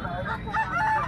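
A black fighter-breed chicken at a village market crows and clucks in a run of harmonic calls, close and fairly loud over a busy background.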